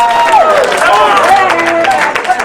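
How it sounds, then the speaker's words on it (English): Wedding guests clap in a loud, dense burst of applause mixed with cheers and voices, steady throughout and tapering slightly at the end. "You can have a round of applause for that."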